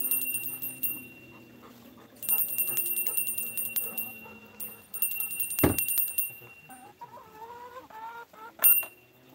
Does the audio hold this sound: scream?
no